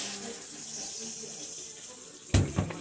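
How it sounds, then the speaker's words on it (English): Water from a tap runs in a steady soft stream, then splashes loudly for a moment near the end as it hits a surface. "Why does it feel so nice when we're splattering water all over the ground?"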